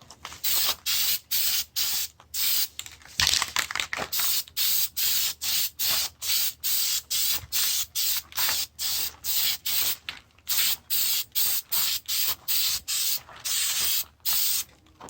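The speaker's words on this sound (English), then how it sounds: "I'm going to go spray the edges here again." Flex Seal sprays from an aerosol can in short, loud, close bursts, repeated rapidly and steadily with brief gaps, a hissing sound throughout.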